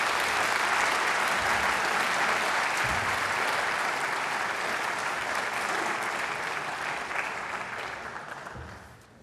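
Audience at the 2015 ADC Gandel Oration bursts into sustained applause as a rabbi is welcomed to the stage, a dense, loud wash of clapping that holds steady for several seconds before tapering off at the end.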